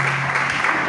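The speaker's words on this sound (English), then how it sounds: "Clap for them." A church congregation applauds the drummer, keyboardist and singers, a brief burst of dense, even clapping that fills the room at steady loudness.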